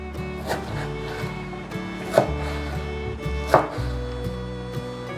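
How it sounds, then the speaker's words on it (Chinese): A knife dicing tomato on a cutting board, with occasional distinct thuds over soft background music and no talk. "把番茄切片， 换个方向，把番茄切小丁。"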